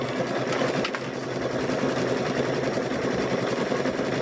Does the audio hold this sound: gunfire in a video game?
no